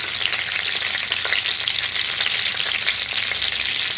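Green chillies, black pepper, a piece of cinnamon and a bay leaf fry in ghee for chicken rezala, a loud, close, steady sizzle with dense crackling throughout.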